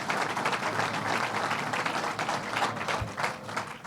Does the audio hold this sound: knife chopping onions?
no